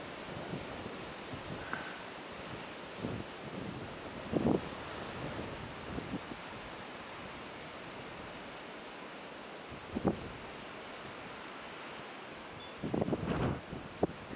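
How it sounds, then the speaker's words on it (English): Blizzard wind in Skokie, Illinois, a steady broadband roar buffeting the microphone throughout, with a few louder gusts rising out of it, alone without speech. "Wind's picking up."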